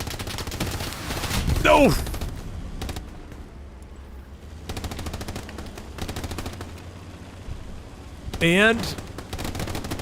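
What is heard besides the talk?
gunfire and rockets in video game Hell Let Loose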